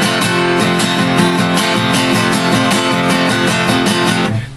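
Steady acoustic guitar strumming of two bars of a song, even down-up rhythm with bright ringing chords, close and alone, ending abruptly.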